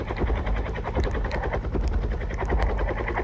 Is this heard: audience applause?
no